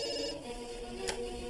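Telephone ringing, a faint electronic ring tone over a low, steady background with a brief higher burst near the end and no talk.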